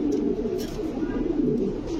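Fancy pigeons at a pigeon market give soft, low, rolling coos close by, continuous for a couple of seconds.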